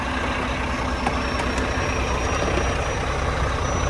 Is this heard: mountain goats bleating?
no